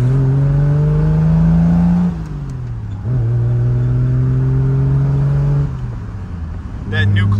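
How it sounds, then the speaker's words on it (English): A 1973 Triumph GT6 inline six-cylinder engine revs hard and climbs through the gears, its rising tone dropping at each shift, loud and close. "if you can get that inline six with the right exhaust, these things sound fantastic"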